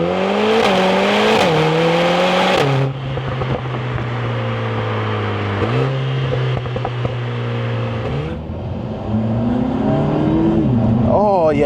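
A 2025 Lotus Emira Turbo SE with a 2-litre turbo engine, loud and close from inside the cabin, revving up and down through gear changes with shifting harmonic drones and crackling texture; a voice talks over it throughout.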